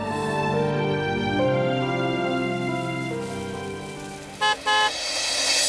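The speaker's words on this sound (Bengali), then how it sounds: "ওই দেখো গাড়ি হর্ন দিল, এসে গেছে মনে হয়" A car horn gives two short, loud toots in quick succession near the end, cutting through steady background music.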